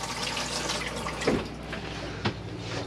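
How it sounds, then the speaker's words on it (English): Hot water runs from a tap in the bathroom of an Auto Trail Expedition C71 motorhome, making a steady close rush with a couple of small knocks and splashes. "There's your hot water coming through there,"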